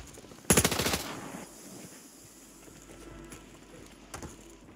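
A single short, loud burst of rapid automatic fire in Call of Duty Warzone 3, followed by quieter ambient game noise and a faint later shot.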